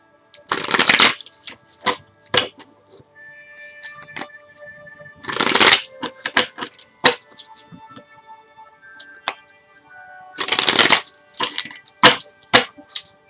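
Tarot cards being shuffled up close: three loud riffling bursts, each lasting about a second, separated by softer taps, slides and clicks of the cards being handled.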